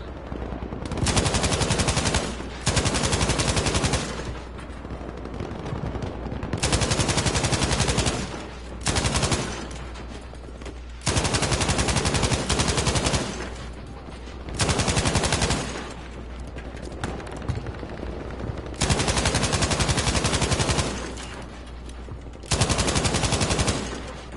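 Video game gunfire in long, loud sustained automatic bursts that repeat with brief gaps between them, dense and close throughout with no talking.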